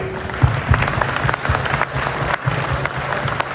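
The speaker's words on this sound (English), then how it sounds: "let's give that century mark a round of applause" An audience applauds at a car show event, a busy patter of many hands with some louder near claps, sustained and fairly close.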